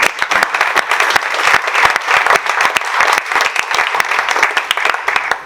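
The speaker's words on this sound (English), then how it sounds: "If we can all give them a round of applause." A room of attendees at a tech investment roundtable claps in a sustained, loud round of applause, dense overlapping hand claps continuing evenly from start to finish with no talking.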